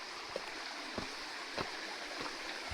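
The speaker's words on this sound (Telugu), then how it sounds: "వాటర్ ఫాల్ ఎంత క్లియర్గా ఉన్నాయి చూడండి" Waterfall on the Kudremukh trek in Karnataka, a steady broadband rush of flowing water with a few faint knocks, no talking.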